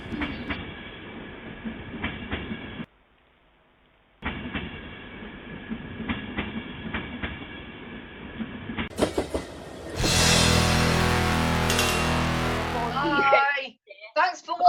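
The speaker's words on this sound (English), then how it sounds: "Some Grand Central Class 90s and Mark 4s on a move at Crewe" Grand Central Class 90 electric locomotives hauling Mark 4 coaches at Crewe, a steady rolling rumble with rhythmic clatter that drops out briefly, then a louder close pass with bright squealing wheels before fading.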